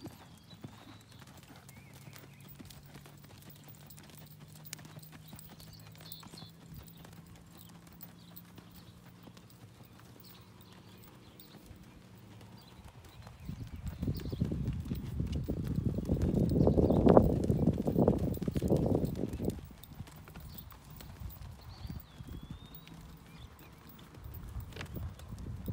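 Hooves of a horse at a flat-foot walk during a western pleasure show class, faint steady clip-clop for a while, then a louder, closer burst of hoof falls before fading back.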